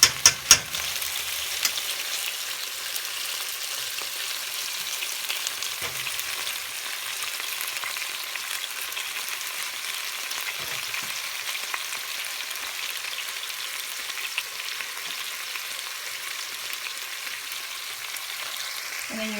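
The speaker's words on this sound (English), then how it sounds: "go ahead and add your garlic and onions" Garlic and onions fry in a pan with a continuous hiss, stirred now and then with a few soft scrapes and knocks. The pan is close and there is no talk. The dish is a Filipino-style chicken afritada.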